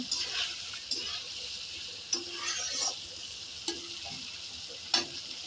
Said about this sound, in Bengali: মশলাটা ভাজা ভাজা না হলে কাঁচা গন্ধ করবে, তাই ভালোভাবে আরেকটু ভেজে নেব